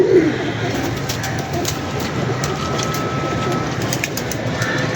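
Pigeons perched at dusk coo softly amid a steady outdoor hum, the calls faint and brief near the start over the background noise.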